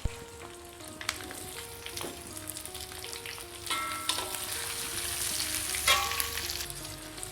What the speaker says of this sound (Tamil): இஞ்சி பூண்டு இது நல்லா வதங்கி பொன்னிறமாய் வந்ததும் வெங்காயம்